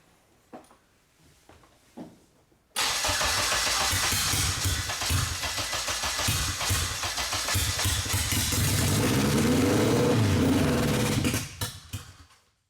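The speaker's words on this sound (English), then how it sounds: "So this is the first start. All right, you go ahead and crank it." A turbocharged 600 hp AWD Honda Civic cranks and catches on its first start, going from a few faint clicks to a loud, rough, sustained engine roar at close range before it abruptly cuts out. No one speaks.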